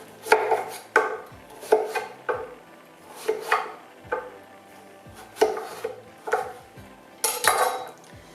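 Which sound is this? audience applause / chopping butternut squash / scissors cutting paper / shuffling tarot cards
chopping butternut squash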